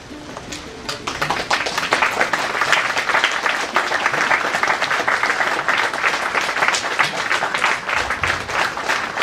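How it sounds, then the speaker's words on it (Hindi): An audience gives loud, sustained applause after a yoga group's performance at a Yoga Day program in Indore, with dense clapping that builds after the first second and holds steady. "शानदार प्रस्तुति और जोरदार तालियों से इस ग्रुप का हम अभिनंदन करें"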